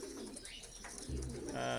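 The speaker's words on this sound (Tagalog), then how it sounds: "ang daming ibon dito" Pigeons coo softly and continuously in a loft, several birds close by, with a steady low hum beneath and a brief flutter of chirps.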